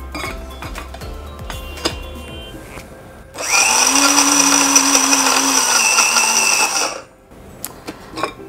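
A mixer grinder whirs loudly for about four seconds, grinding roasted flaxseed and spices for fenugreek laddu, starting abruptly after quiet kitchen clinks and stopping sharply before a few more light clinks.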